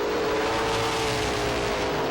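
Pro stock race cars roar through a turn at Lee USA Speedway in 1993, a dense and loud engine drone that holds steady without breaks, with no voices over it.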